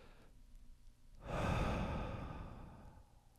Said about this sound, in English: deep breath together